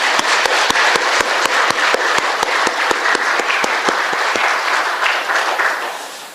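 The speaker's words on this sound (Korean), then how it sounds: "뜨거운 격려의 박수를 한번 해주시기 바랍니다." A church congregation gives warm applause of encouragement to Sunday school teachers at an afternoon worship service: loud, dense, sustained clapping with steady rhythmic beats running through it, tapering off at the end.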